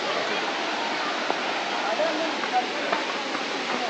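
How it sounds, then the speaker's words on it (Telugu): Water pours steadily between hills at a waterfall, a constant broadband rush filling the clip with no letup, close and fairly loud, a few faint clicks surfacing over the steady wash. "మొత్తం కొండల మధ్యలో నుంచి వస్తున్నాయి నీళ్ళు."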